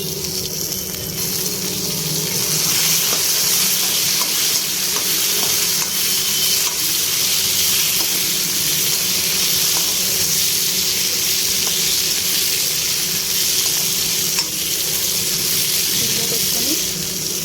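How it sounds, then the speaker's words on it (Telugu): Green chillies frying in hot oil for a drumstick leaf chutney, a continuous loud sizzle and hiss running steadily throughout without talk. "పచ్చిమిర్చి కూడా వేసి వేయించుకోవాలి"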